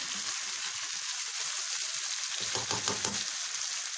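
Chicken frying in a pan with ginger garlic paste, a steady close sizzle with scraping stirring sounds that swell briefly near the middle, no voices.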